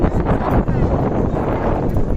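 Loud, steady wind buffets the microphone throughout near a large bridge by Ayala Mall Arca South, Taguig, a dense rumbling rush with no clear speech.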